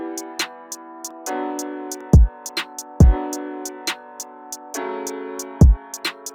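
Basic drill drum beat programmed in FL Studio, with crisp rapid hi-hats over a sustained synth chord, a kick falling just before each snare, and punchy low drum hits in a bouncy, sparse loop.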